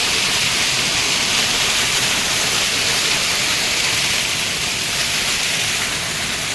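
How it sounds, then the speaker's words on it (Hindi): A large waterfall near Kedarnath pours down in a loud, close, unbroken roar of rushing water that fills the whole scene, with no voices. "ये देखो मेरे ठीक पीछे बड़ा सा सुंदर झरना गिर रहा है"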